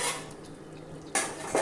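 Spices and potatoes are stirred together in a cooking pot, a few metallic scrapes and clinks of a utensil against the pot, sharp at the start and end with quieter scraping between.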